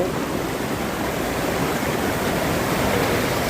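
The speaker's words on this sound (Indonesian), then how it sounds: "kita melewati aliran sungai guys, yang sengaja memang dibuat seperti ini" A man-made river channel at the Nyampay campground in Ciwidey, Bandung, rushes in a steady, close, full-bodied wash of flowing water with no break.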